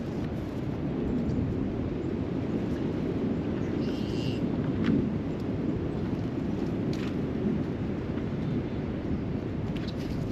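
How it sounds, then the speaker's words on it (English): Strong wind gusting steadily outdoors around a building with clamps and side strapping, a loud continuous roar buffeting the microphone with no pauses. "when the wind does this, it knocks these clamps off"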